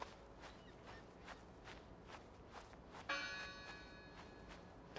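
Repeated quick strikes of a church bell in the video game Draugen, evenly paced and moderately close, with one fuller, sustained peal ringing out midway; no voices.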